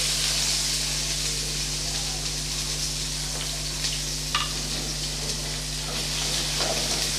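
Chopped onions, both regular and small shallots, sautéing in a pan while bitter gourd kuzhambu is prepared; a steady, close broadband sizzle runs throughout with faint stirring clicks and a low background hum.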